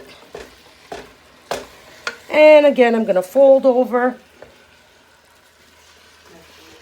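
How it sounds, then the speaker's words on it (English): Ground meat for a mild chili sizzles steadily in a pan, a soft frying hiss running beneath a person talking throughout. "And you can hear the beautiful sizzling."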